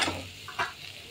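Turmeric stirred into a pan of sautéed onion, peanuts, cumin and mustard seeds for chapati chivda, giving a faint sizzle with a couple of short scraping strokes, no talking.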